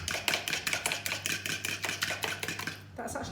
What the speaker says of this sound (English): if you give it a really good whisk with a fork